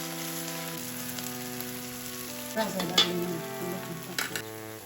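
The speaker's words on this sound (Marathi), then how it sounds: "कांदा भाजत आलेला आहे" Onions fry in a pan for homemade black masala, a continuous crackling sizzle with occasional louder spits and stirring sounds, fairly close and moderate in level.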